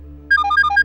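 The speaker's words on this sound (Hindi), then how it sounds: "ये लो, अब तुम्हारा फोन।" A mobile phone rings with a bright electronic melody, a quick repeating pattern of clear tones that starts abruptly and plays loud and close over a faint low hum.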